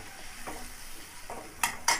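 Spices sizzle and fry in a pan for a village-style egg kuzhambu while being stirred, with a couple of sharper scraping strokes near the end.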